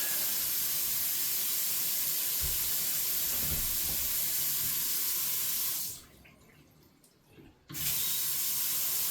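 A sink water tap runs at full pressure with a loud, steady rushing hiss. It cuts off briefly for a moment, then gushes again at the same strength.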